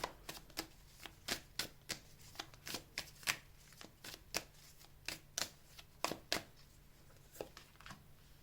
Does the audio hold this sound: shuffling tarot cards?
yes